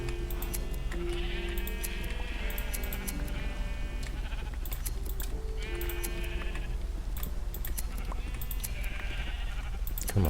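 Minecraft sheep bleat repeatedly over steady in-game background music, several nasal bleats spaced a few seconds apart at moderate volume.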